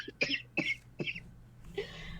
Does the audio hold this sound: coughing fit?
yes